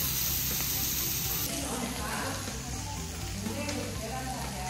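Kimchi and pork cooking on a grill at a Korean samgyupsal restaurant in Seogwipo, Jeju: steady sizzling and crackling with a dull background hum and restaurant noise throughout.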